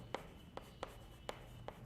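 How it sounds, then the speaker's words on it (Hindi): Writing a definition on a classroom board during a physics lesson: five faint, separate taps and strokes at an uneven pace, heard alone with no talk. "मैं सबसे पहले इसकी डेफिनेशन लिख देता हूं यूनिफॉर्म की"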